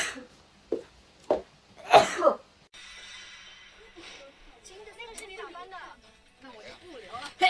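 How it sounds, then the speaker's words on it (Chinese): A young Chinese woman with allergies sneezes wetly several times in quick succession, loud and close, and then speaks briefly. "疯狂打起了喷嚏。"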